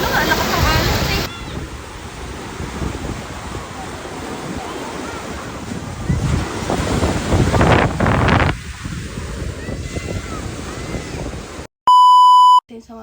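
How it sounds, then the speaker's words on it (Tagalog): Strong ocean waves at a beach, a continuous rushing surf roar with heavy wind buffeting the microphone and swells rising midway. Voices speak faintly underneath, and a short electronic beep sounds near the end. "lakas ng alon eh"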